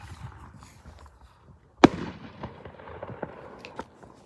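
Fireworks go off outdoors: quiet rustling, then one sharp loud bang followed by a burst of crackling pops and a few scattered snaps fading out, close to the listener.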